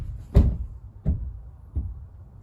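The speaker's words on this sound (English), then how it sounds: "I guess that was the wind that probably closed one of those storage doors" Wind blows a storage compartment door on a 2019 Thor Quantum RW28 RV shut, giving three dull, fairly close thuds roughly two-thirds of a second apart, each fainter than the last.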